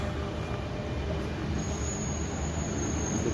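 Metro train pulling into a Dubai metro station, a steady loud rumble of the train inside the station with a thin high whine joining partway through; no talking.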